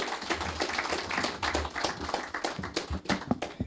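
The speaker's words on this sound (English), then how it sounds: "Please, let's get a round of applause for the Honorable Stuart Young." Scattered, uneven clapping from a seated audience greeting the Honorable Stuart Young at a solar panel event in Trinidad and Tobago, individual hand claps audible in a fairly light round.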